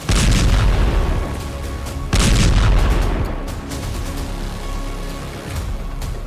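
Heavy booms from a missile strike in news footage, two loud rumbling blasts roughly two seconds apart, each trailing off into a sustained roar.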